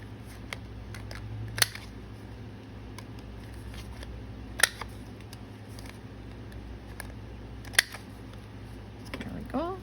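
Scissors snip little corners off a paper label for a junk journal folio, giving a few sharp, isolated clicks spaced a few seconds apart against a quiet room background.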